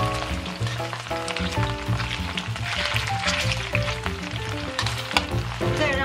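Pork spare ribs sizzle and fry in a pan while being slowly stir-fried, a steady close crackle running throughout beneath continuous background music.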